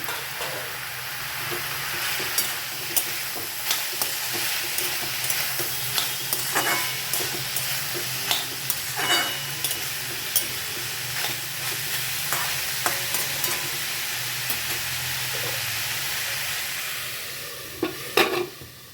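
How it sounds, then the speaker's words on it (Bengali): Chopped banana stem fries in a pan over medium flame, a steady sizzle broken by repeated scraping stir strokes that come at an uneven rhythm, close up and with no talking. "মাঝে মাঝে ঢাকনাটা সরিয়ে নাড়িয়ে দিয়েছিলাম এরকম লাল লাল করে ভেজে নিতে হবে"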